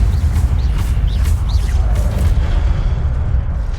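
An Incendio fire spell goes off in Hogwarts Legacy, a loud, sustained booming blast with a rushing roar that stays dense for several seconds and then fades slightly.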